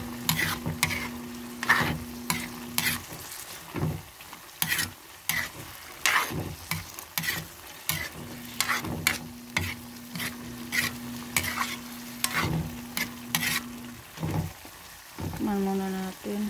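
A spoon or spatula scrapes and clatters against a pan in uneven bursts of stirring, over a low background sizzle, with a faint tone in parts and a brief stretch of other noise near the end.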